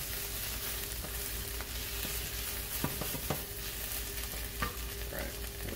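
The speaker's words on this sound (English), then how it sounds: "And then I'm going to deglaze with my red wine." Red wine poured into a hot pan for deglazing, a loud steady sizzle with spatula scrapes and stirring scattered throughout.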